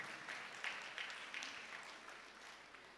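Soft, distant applause from a church congregation at a thanksgiving service, a faint continuous patter of clapping lasting a few seconds and gradually thinning out.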